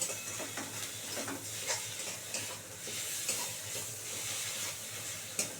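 Washed taro leaves go into a hot pan with salt and turmeric, sizzling steadily with crackling and scraping stir sounds throughout.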